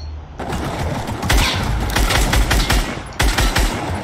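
Rapid gunfire on a video game shooting course, dense bursts of close, sharp shots, a brief break, then another volley before fading into a short lull and a final burst.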